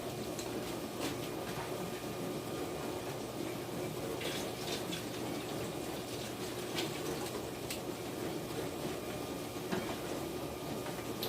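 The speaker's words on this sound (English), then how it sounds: "I think we'll pour just a little bit more water in there." Water pours steadily into a canning pot for a water bath, a constant rushing splash that holds at an even level throughout with no talk over it.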